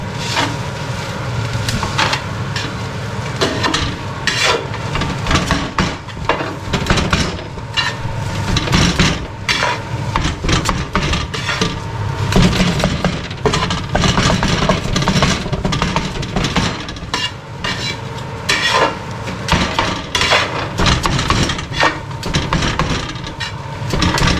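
Cheese koththu chopped with blades, a dense, continuous metallic clatter of fast rhythmic strikes running steadily throughout at close range.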